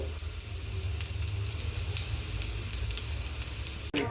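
Sliced bitter gourd fries slowly in oil over a low flame in a home kitchen. A steady, close sizzle carries on throughout, with a brief scrape near the end.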